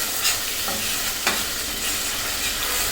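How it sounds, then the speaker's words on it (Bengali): Spice masala for liver bhuna frying in a pan while being stirred, a continuous close sizzle broken by a few spatula scrapes and clicks, with no talking. "এখন আমি নেড়ে চেড়ে এটা দু তিন মিনিটের মতন ভুনে নিতে হবে"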